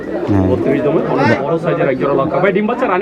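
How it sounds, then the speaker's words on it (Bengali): Pigeons cooing at a busy pigeon market in Bangladesh, Pakistani breed hens among them, a steady murmur of coos close by under constant talk and crowd chatter. "বাহিরের কবুতর পাকিস্তানি মাদি"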